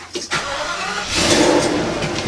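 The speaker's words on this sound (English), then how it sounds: "you start the motorhome up" A 2018 Holiday Rambler Admiral 31B motorhome engine turns over briefly, then catches and settles into a loud, steady running rumble, close by.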